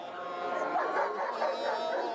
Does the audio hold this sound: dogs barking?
yes